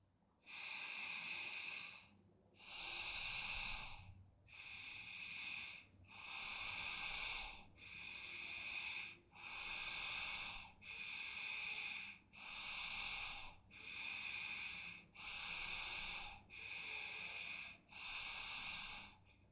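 Forceful exhalations during a beginner yoga breathing exercise, about eleven strong breath bursts in a regular rhythm, close and loud with short pauses between, no talking.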